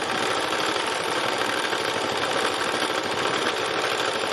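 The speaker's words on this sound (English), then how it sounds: "So I'm just putting a little bit of extra stitching up here." A sewing machine runs continuously and close, stitching extra detail onto a fabric landscape piece with a dense, even mechanical whir and rapid needle chatter, no pauses, no voices.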